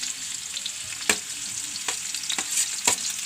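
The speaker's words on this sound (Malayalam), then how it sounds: "അപ്പം എണ്ണ ചൂടായി. അപ്പോൾ വെല്ലുള്ളി ഇടണം, സവാള, ഇഞ്ചി," Garlic, onion and ginger frying in hot oil for a crab roast, a constant crackling sizzle with several sharp knocks of a spoon stirring against the pan.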